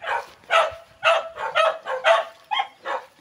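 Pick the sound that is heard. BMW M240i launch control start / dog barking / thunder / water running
dog barking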